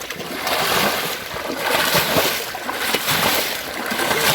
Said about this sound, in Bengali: বাজারের যে ব্যাগ আছে সেই ব্যাগ দিয়ে তারা পানি ইসতে আছে